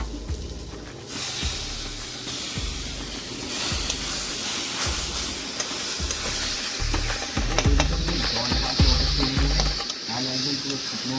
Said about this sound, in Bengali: এবার টোটাল বেগুনে আর মশলাগুলো এটাকে দিয়ে ভালো করে নাড়াচাড়া করে টোটালটা দিয়ে দিতে হবে।